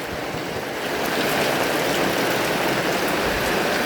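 Steady rain pours down outdoors during cleaning, a dense continuous hiss of drops striking surfaces, loud and close throughout with no pauses.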